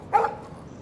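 A dog barks once, short and sharp, in the video game Life Is Strange, then only faint background ambience remains.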